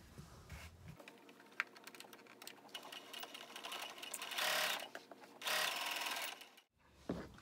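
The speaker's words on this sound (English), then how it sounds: "Then you'll be sewing 3 inches downwards." A sewing machine stitches a three-inch seam down a folded pleat on a tote bag, running in steady bursts with short pauses and louder, sustained stretches near the end, heard alone and close.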